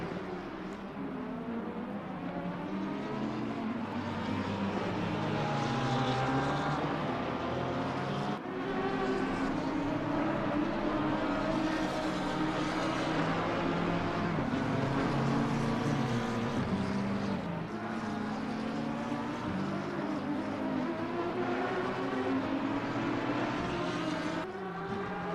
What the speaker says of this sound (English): Oh, listen to that V10 roll.